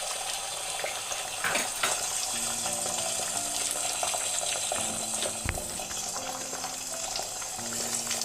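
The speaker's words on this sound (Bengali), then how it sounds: "কড়াইতে তেল দিয়ে ডিমটাকে ভেঙে দিলাম।" Egg cracked into hot oil in a wok, sizzling and crackling steadily and fairly loud throughout, with a few clinks and a low tonal hum underneath.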